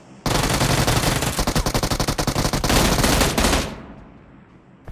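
A dense, close burst of rapid automatic gunfire from a Fortnite match hammers on for about three seconds, then cuts off and trails away into a fading echo.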